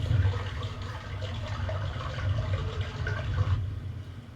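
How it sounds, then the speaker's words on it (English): Running water from the Myst video game, a continuous rushing wash with a low rumbling body, fairly loud and steady throughout with no voices. "Maybe it's a different water sound."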